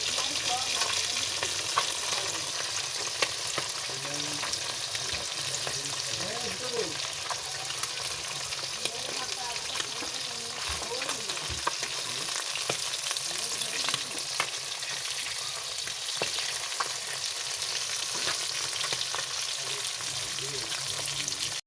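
Fish frying in a pan in a home kitchen, a continuous loud sizzle and spatter of hot oil that holds steady throughout, with occasional stirring clatter.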